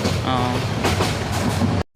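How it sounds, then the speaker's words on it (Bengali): A train rolls slowly past Bhairab station with a loud, steady rumble and rattle heard from inside, which cuts off abruptly at the end. "তো গাইস এখন হচ্ছে ট্রেন একদম স্লো আগাচ্ছে"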